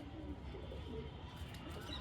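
Pigeons coo softly and low in the background, a faint, continuous murmur of calls.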